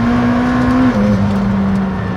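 A McLaren hypercar engine of about 800 horsepower revving toward 8,000 rpm, a loud, close, sustained engine drone with a steady tone that drops slightly in pitch midway, with no speech.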